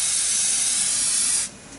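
A WD-40 aerosol can sprays into an engine cylinder of a Ford Festiva during piston installation, a single sharp continuous hiss lasting about a second and a half, then stopping abruptly.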